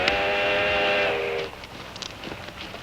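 A steam train's loud, steady whistle holds for about a second and a half, then cuts off, leaving low rumble and scattered clanks under a quieter rail ambience.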